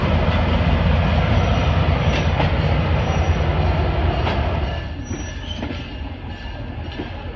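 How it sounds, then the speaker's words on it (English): Museum train rolling out of a train shed, a loud steady rumble of wheels and car body with occasional clacks and light squeals, easing into a quieter rolling sound toward the end, no talking. "Riding out of the train shed,"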